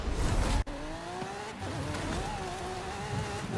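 Lamborghini Centenario engine droning steadily in a racing video game, a sustained mid-pitched tone with gear shifts and rising pitch, loud and alone after a brief sharp cutout early on.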